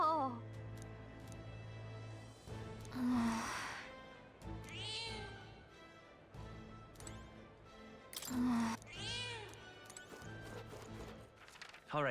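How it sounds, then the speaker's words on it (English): A cat meows a few times in the video game Metaphor: ReFantazio, with rising and falling cries spread among game music and other sounds. "That's a good kitty."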